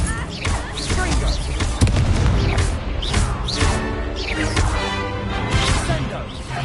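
In Hogwarts Legacy, the Confringo spell goes off as a fiery blast inside dense, continuous combat with repeated impacts and booms. A voice speaks the spell names over the din.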